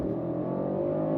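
A 2025 Mercedes-AMG GLE 63 S Coupe launches hard from a brake-held standstill, its engine a loud, steady, heavy roar that holds strong and builds slightly for the whole short stretch, with no talk over it.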